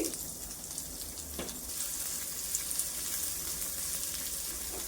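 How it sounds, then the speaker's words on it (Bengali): Chopped onion frying in a pan alongside nuts for a potato patty filling, giving a steady, moderately quiet sizzle with a faint scrape or two, no voices. "পেঁয়াজটাও দু তিন মিনিট ভেজে নিব"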